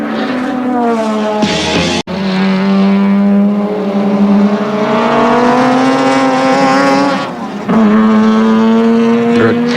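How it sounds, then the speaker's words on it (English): Group C touring cars racing at Amaroo Park in 1984, with a loud, close engine note holding a steady high drone and gear shifts marked by brief breaks, under crowd-free trackside ambience. "We're following at the moment Gary Scott, the race leader, on lap number 82 and car number 16, leading the field"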